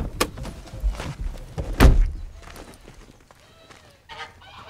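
Aggressive farmyard geese honking and squawking in short bursts at close range, mixed with scuffling movement and a loud thump midway.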